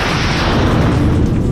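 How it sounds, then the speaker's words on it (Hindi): Missile launches roar in a continuous, loud, broadband rush, with launches fired one after another blending into a single sustained blast. "इसी बीच एक दूसरे इलाके से एक के बाद एक कई हमलावर मिसाइलें दागी गईं।"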